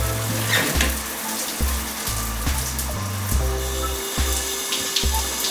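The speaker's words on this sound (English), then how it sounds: "So I am going to wet my hair first." Water running and splashing over hair during washing of crochet braids and twists, with irregular pouring surges and dripping, close and fairly loud, no talking.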